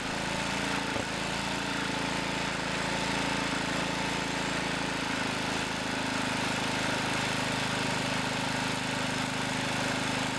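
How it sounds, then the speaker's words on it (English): Small engine revving during a running test of a Kohler Delco Remy voltage regulator, a continuous droning hum holding steady throughout with no talk. "I'll rev it up a bit more to make sure."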